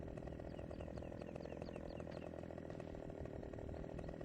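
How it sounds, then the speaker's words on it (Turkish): A chainsaw cuts trees in Farming Simulator 2015, buzzing continuously at a steady, moderately quiet level, with no talk over it. "Şu ince ağacı da keselim"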